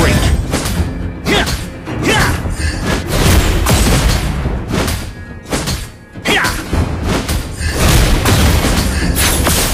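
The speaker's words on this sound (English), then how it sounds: "Your team destroyed a turret!" Turret destroyed in Mobile Legends: Bang Bang, heard as loud, dense booms and heavy thuds from rapid, continuous battle effects that build and surge across the clip.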